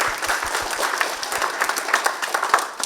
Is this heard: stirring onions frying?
no